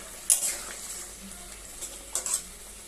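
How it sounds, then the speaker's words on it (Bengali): Fish curry being stirred in a pot of simmering gravy: faint, quiet background with two brief scraping, clinking strokes of a utensil against the pot. "সব মাছ দিয়ে দিয়েছি, এটাকে একটু ভালো করে নেড়ে নেব"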